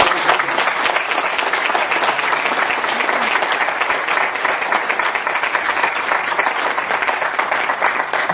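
Applause from a lecture audience thanking the professor after a talk, a sustained dense wash of clapping at steady volume for the full length with no speech over it.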